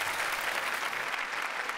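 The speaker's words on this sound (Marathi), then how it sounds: "जोरदार टाळ्या सरांसाठी" Audience applause on a Marathi comedy stage show, a steady dense wash of clapping held throughout at moderate level with no talk over it.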